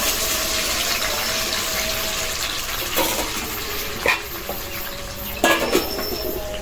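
Carrot paste dropped into a hot pan with cardamom and cinnamon for carrot halwa, a steady broad hiss of frying with a few sharp clinks and scrapes of stirring, close and with no talking.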